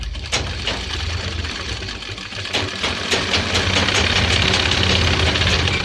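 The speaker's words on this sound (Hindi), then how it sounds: "देखिएगा यहाँ से हम इस पर सिलाई करेंगे।" A sewing machine stitches the fly of a pair of men's formal trousers with a continuous, loud, rumbling motor hum and a rapid needle rhythm, steady throughout.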